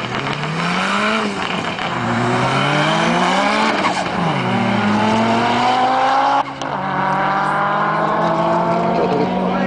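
An Audi S2 on a quarter-mile drag run accelerates hard, its engine note climbing loudly and dropping at each of several gear shifts, close and sustained throughout.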